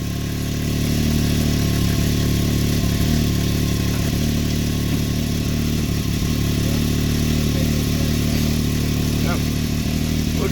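A Savage motorcycle engine runs at a steady, smooth idle, a continuous low rumbling drone held evenly throughout, with a voice talking over it.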